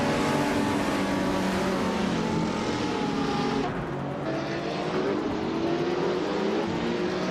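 Race cars in a racing video game at the start of a race: steady, loud engine drone with rising and falling pitch as cars accelerate together, a continuous pack sound with no talking.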